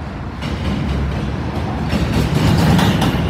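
A train rumbles past nearby, a loud low roar with rhythmic clattering that builds slightly toward the end.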